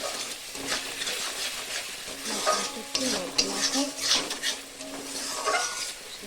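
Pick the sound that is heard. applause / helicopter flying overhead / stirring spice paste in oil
stirring spice paste in oil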